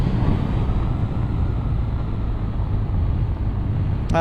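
A 2021 BMW R nineT motorcycle engine pulls hard under acceleration, a loud, steady roar heard up close through the whole stretch, with wind rush mixed in and a brief sharp change right at the end.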